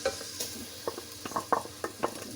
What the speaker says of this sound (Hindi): लहसुन अदरक पेस्ट हो गया फ्राई